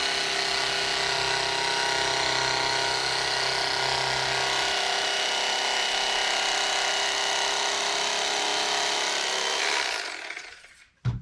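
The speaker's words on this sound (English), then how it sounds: "This is just a electric steak knife, and man, it really works well for cutting this stuff." An electric steak knife saws steadily through foam padding, a continuous buzzing, rasping cut held close and loud for about ten seconds before the blade stops abruptly.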